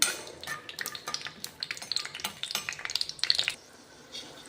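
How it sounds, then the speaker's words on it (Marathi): Peanuts frying in oil in a pan, with scattered crackling pops and stirring clinks of a spoon against the pan, fairly quiet and close. "याच्यामध्ये आपण टाकणार आहे शेंगदाणे हे आपल्याला तळून घ्यायचे आहेत छान प्रकारे"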